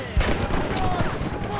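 Gunfire in the video game Red Dead Redemption: a few quick shots pop amid busy game noise, moderately loud, while a player speaks over the action.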